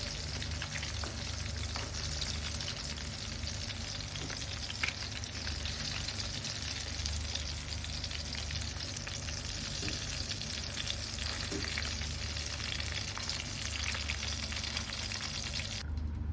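Fish pieces frying in oil in a pan give a dense, continuous sizzle with fine crackling, steady and close, with no voices.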